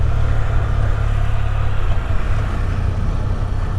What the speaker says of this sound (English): I see a car coming up behind me.